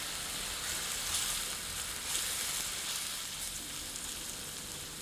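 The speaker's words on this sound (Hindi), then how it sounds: "मिलाकर 2 से 3 मिनट मध्यम आंच पर भूनते हैं।" Freshly ground ginger-garlic paste fries in a pan over medium heat for chicken lababdar, giving a continuous, fairly close hiss and sizzle with slight crackling swells throughout.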